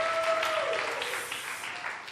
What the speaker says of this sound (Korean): 우리 미나에게 박수 한번 해주세요.